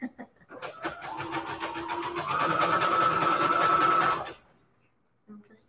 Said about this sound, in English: I'm just sewing the trim on here.